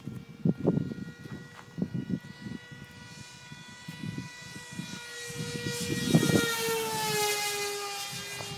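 LongEZ aircraft engine at full throttle, a rising propeller drone with climbing tonal whine building in loudness, mixed with intermittent thumps and handling noise nearby.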